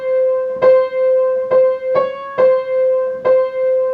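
Solo piano plays the top melody line of a piece, five clear single notes struck at a slow, slightly uneven pace, each ringing out before the next, with no talking.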